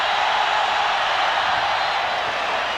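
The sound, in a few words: basketball arena crowd cheering, Duke at Arizona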